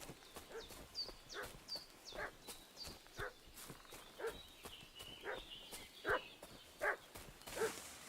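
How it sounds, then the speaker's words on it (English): A dog barks repeatedly in the video game Kingdom Come: Deliverance II, a string of faint, evenly spaced yaps at a distance, mixed with soft hoof-like thuds or footsteps. "What's that dog making such a fuss about?"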